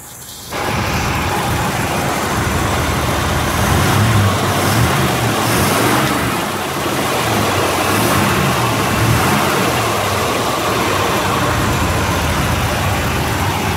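A 1955 Chevy engine revs and accelerates up close, loud and steady, its roar swelling and easing slightly before climbing again, with no break in the engine sound.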